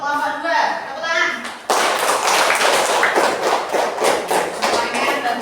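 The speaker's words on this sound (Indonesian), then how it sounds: "Tepuk tangan." A classroom of fifth-grade pupils claps hands together in a loud, dense burst of rapid claps after a short stretch of teacher talk, the clapping continuing steadily to the end.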